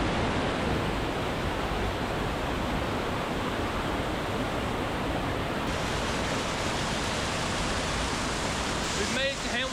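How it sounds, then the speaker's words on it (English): Hamilton Falls in Banff pours out of a mountainside, a steady, dense roar of rushing water that stays loud and unbroken throughout, with a brief voice near the end. "I've never seen a waterfall come out of the side of a mountain before"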